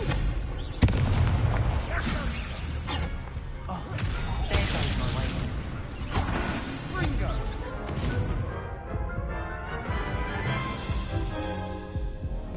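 Blasting Confringo explosion spell in a wizard-dueling video game, a sharp burst near the start followed by dense, continuous rumbling booms and crackling effects, with game music and voices mixed underneath.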